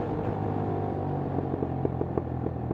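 Motorcycle cruising on a Los Angeles road, a steady close engine drone with a low rumbling hum and faint rhythmic ticks, continuous and moderately quiet with no speech.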